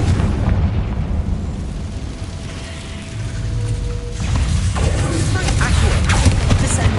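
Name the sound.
Confringo fire spell explosion, from video game Hogwarts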